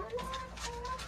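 Chickens cluck softly and repeatedly inside a chicken coop, close by and alone, with no talking over them.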